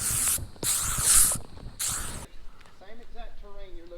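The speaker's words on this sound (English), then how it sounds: "Let me get some of that bug spray you got." An aerosol can of bug spray gives three loud, close bursts of hissing spray beside a creek. Someone talks right after.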